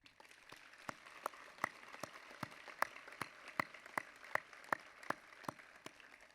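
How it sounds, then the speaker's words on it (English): Faint applause at a college commencement, thin and distant, with evenly spaced individual claps sounding at a steady rhythm over a quiet background. "Let us come together in expressing heartfelt gratitude to those individuals with a round of applause."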